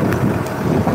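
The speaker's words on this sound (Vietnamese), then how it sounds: "Ở đây gió nó hơi ồn nên là nghe nó hơi ồn." Strong wind buffets the microphone outdoors near the Cổ Chiên bridge, a steady loud low rumble filling the whole moment with no voices.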